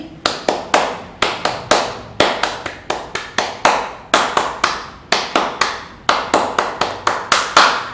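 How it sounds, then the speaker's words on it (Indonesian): Indonesian scout rhythmic clapping (tepuk pramuka) by a class of young pupils: loud, close, sharp claps in a repeating patterned rhythm of quick groups, with the pattern cycling twice, with no talking over it. "Tepuk pramuka 2 kali."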